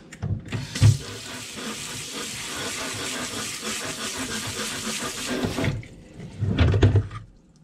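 Water pours steadily over freshly planted popcorn seeds in a growing medium, a continuous splashing wash lasting several seconds and then thinning to a few closer trickles and dribbles at the end.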